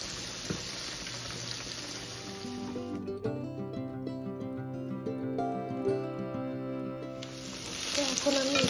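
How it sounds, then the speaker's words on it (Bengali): Spaghetti masala of chicken, onion and garlic frying in a pan, a steady close sizzle running throughout, with a stretch of tonal music layered over the middle. "তো এটা ভালো করে ভাজা ভাজা করে নিচ্ছি।"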